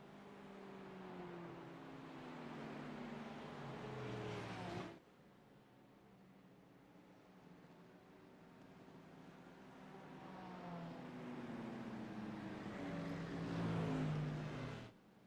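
GT3 race cars lap Watkins Glen behind a safety car in iRacing, steady engine drone with rising and falling revs through gear changes and a sudden shift in tone midway, fairly loud throughout.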